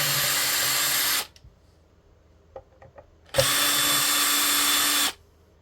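Power drill backing screws out of a Squier Vintage Stratocaster in Sienna Sunburst: two loud, steady whirring bursts of about four and two seconds, separated by a quiet gap with a few small clicks and taps.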